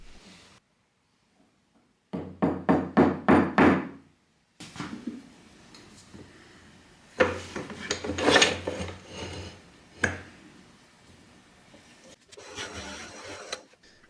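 Cherry wood spinning off-centre on a lathe with a slight wobble: a burst of rapid, rhythmic rasping, then a pause, then irregular scraping and rubbing as a tool works the turning piece, loud at times and quieter in between.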